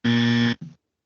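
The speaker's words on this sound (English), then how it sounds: "I got the buzzer from Andrew." A game-show buzzer blares once in a loud, harsh half-second tone, followed by a short, fainter tail before silence.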